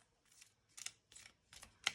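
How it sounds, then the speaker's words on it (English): Tarot cards are shuffled in five short, soft bursts of papery riffling, evenly spaced and close up in a quiet room. "I'm going to shuffle the cards"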